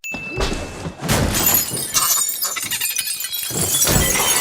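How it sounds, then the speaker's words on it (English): A storefront window is smashed in a Fantastic Beasts movie scene: a loud, sustained crash of shattering glass with scattered shards and clatter continuing for several seconds, close and dense, with no music. "now he's got to break glass to get inside this store"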